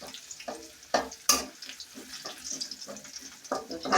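A tempering for drumstick dal fries in a pan, soft crackling sizzle broken by several sharp stirring clinks and scrapes.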